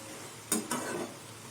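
A spoon scrapes twice through ivy gourd fry in a pan on the stove, two short sharp strokes close by over a faint steady sizzle.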